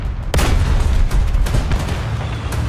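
Tank cannon fire in War Thunder, a T-90M battle: a sharp, loud blast early on followed by a rolling low rumble and scattered further booms, with no talk over it.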